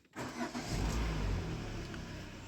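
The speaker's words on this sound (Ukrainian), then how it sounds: "Пробуємо заводимо автомобіль." A Peugeot 301 with a 1.6 engine cranks briefly and catches, settling into a steady, loud idle close by with no talking.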